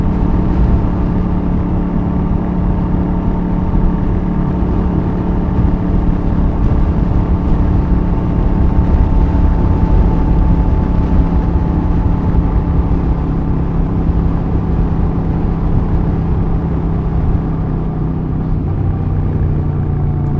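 A Royal Enfield Super Meteor 650 exhaust gives a steady, loud, low engine drone as the motorcycle cruises on a highway test ride, with no pauses or speech.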